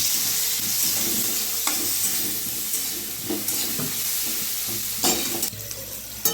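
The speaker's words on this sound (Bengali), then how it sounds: "ভালো করে মশলাটা কষিয়ে নেব" Ginger paste, cumin powder, a little coriander powder, turmeric and slit green chillies are stir-fried in a pan, giving a close, continuous sizzle broken by repeated scraping strokes of a spatula, with no voices.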